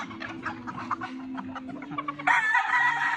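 A gamefowl rooster clucks in a series of short, close calls, then lets out a louder, sustained crow-like cry near the end.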